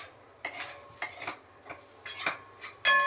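Potato sautéed with salt and crushed peanuts in a pan, stirred with a metal utensil, giving sharp scrapes and clanks every half second or so over a faint background sizzle, close and with no talk.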